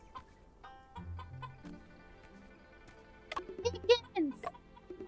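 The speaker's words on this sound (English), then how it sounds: "Chickens!" Chickens cluck in a bright, quick burst near the end, in the mystery game Murders on the Yangtze River, and game voices and music go on under them.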